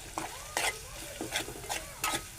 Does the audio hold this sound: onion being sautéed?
yes